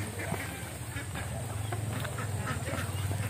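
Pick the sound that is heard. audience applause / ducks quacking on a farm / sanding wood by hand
ducks quacking on a farm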